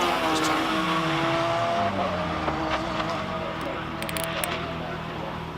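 Race car on a Jaguar Simola Hillclimb run, engine revving continuously with rising and falling tones and a brief tire squeal, loud and steady throughout, with a commentator talking over it.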